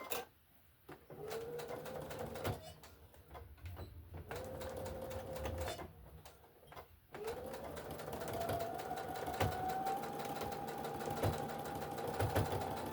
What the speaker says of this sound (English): My sewing machine will go way faster than this